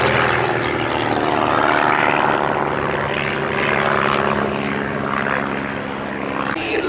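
A loud, continuous roar of a formation of Vans RV-8 propeller planes passes overhead at an airshow, droning steadily with a rising and falling engine hum.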